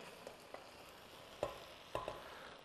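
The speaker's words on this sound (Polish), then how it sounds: "Wrzucam bakłażany." Eggplant pieces drop into a hot pan and begin to fry, a faint sizzle broken by a few soft clatters and stirring knocks, close and quiet.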